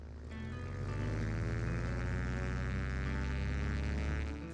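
A propeller airplane takes off from Falcon Field airport in Arizona, its engine droning loud and steady with a rising, sweeping pitch that fades slightly at the end.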